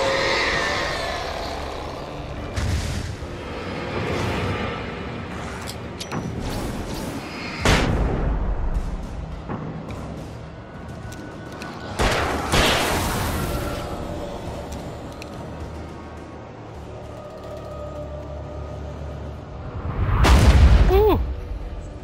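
Shotgun blasts in the video game Alan Wake: a handful of heavy, booming shots spaced several seconds apart, the loudest near the end, over a dark, rumbling game ambience.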